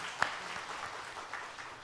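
A church congregation briefly applauds the choir after a hymn during Sunday worship, a faint, scattered patter of clapping with one sharper clap near the start.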